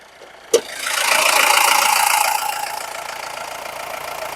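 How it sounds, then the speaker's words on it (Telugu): A Mahindra Bolero SUV's diesel engine starts with a sharp click and settles into a steady, loud idle that eases slightly after a couple of seconds. "ఇంజిన్ బీటింగ్ అయితే చాలా బాగుందండి ఒరిజినల్ బీటింగ్లో ఉంది"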